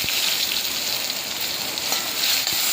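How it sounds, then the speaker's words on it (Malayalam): Dried red chilies hit hot oil with urad dal and chana dal for rice upma, giving a steady, loud crackling sizzle throughout with a brief pop near the end and no talking. "നമ്മളെ എടുത്ത് വെച്ചിരിക്കുന്ന കൊല്ലമുളക് അതിലേക്ക് ഇടാം"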